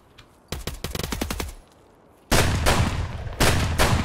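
Automatic gunfire in Escape from Tarkov, PvE mode: loud rapid bursts, one dense burst early, then a heavier sustained volley with a brief gap before it resumes.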